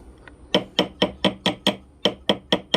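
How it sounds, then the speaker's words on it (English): A ball peen hammer taps on a white gold ring during sizing, giving about ten light, sharp metallic strikes in a steady rhythm, close and crisp with brief ringing decay and a short gap midway. "we're just tapping on the bottom with the ball peen hammer a little bit"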